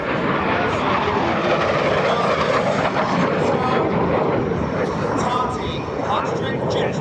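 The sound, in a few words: Hot Streak 2 jet truck, 57 Chevy with Westinghouse J-34 jets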